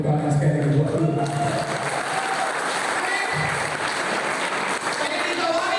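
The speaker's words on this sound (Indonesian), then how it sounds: "Tepuk tangan sekali lagi buat Tuhan." Applause from a youth seminar audience in a church setting, loud and sustained broadband clapping filling the whole stretch, with voices mixed in near the start.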